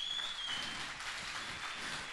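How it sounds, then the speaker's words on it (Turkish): Applause from a studio audience for a guest on a Turkish talk show, a steady diffuse wash of clapping held at an even level throughout, with no voices on top. "Büyük bir alkış Gökhan Doğan'a ya."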